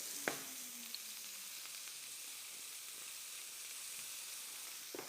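Butter melting in a hot pan, a soft, even foaming sizzle held at low level throughout, with a few faint clinks of utensils at the start and end.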